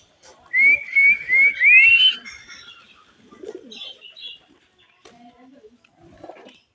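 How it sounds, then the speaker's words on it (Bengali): Pigeons come down to feed, opening with a bright, rising whistling run followed by soft scattered flutters and quiet chirps, all fairly close and gentle. "এখন সবগুলো কবুতর খাবার দেখে নেমে আসতেছে।"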